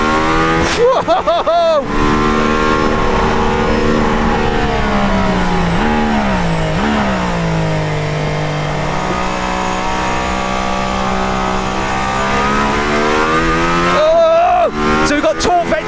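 A Mercedes-AMG One hypercar drives the Nürburgring, its loud engine note droning close and continuously from inside, dropping and rising through corners, with a brief startled exclamation from a voice.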